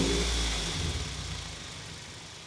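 A Toyota MR2 with 170,000 kilometers on it runs and pulls away, its engine a low steady drone that eases slightly in level as the car moves off, with no voices over it.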